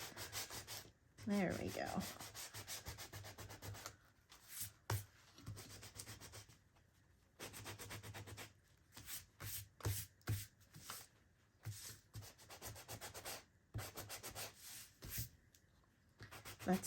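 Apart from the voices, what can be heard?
sanding block distressing paper journal edges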